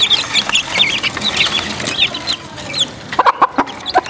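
Chickens, including aseel hens, cluck and peck while being fed. Bright, high clucking and chirping comes throughout, with sharper pecking taps near the end.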